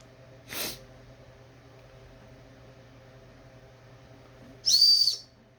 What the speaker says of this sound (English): here's the whistle.